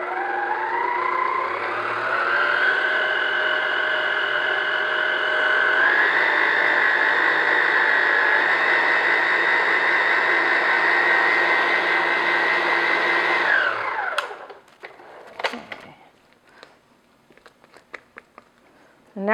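An electric mixer beats chocolate cupcake batter with pure vanilla extract, a loud steady whirring motor for about fourteen seconds that shifts pitch slightly, then winds down and stops, followed by scattered clinks and scraping in a kitchen.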